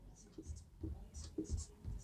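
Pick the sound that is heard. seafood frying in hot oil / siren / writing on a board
writing on a board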